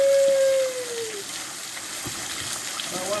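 Water from an outdoor jungle shower sprays in a strong, steady hiss, a continuous rushing sound close by.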